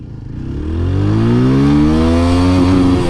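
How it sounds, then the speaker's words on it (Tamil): A 160cc family motorcycle accelerates hard through its gears during a speed test, the engine note climbing loud and close with rising whine, dropping briefly at each shift and pulling up again. "நம்ம gear by gear speed test பண்ணி பார்ப்போம்"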